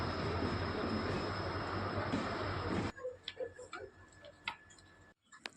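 A train pulls into a station at night, a loud rumbling roar for the first three seconds that cuts off abruptly to quieter platform ambience with scattered clicks and knocks.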